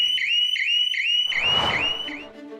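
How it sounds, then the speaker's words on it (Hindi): An anti-theft shutter alarm for shops beeps in a steady repeating pattern of loud, high electronic tones, with a burst of clattering noise overlapping near the end. "10 मेंबर्स से बनी टीम डिजिटल सुरक्षा शॉप्स के लिए ऐसे शटर अलार्म्स बनाती है जो चोर के आते ही"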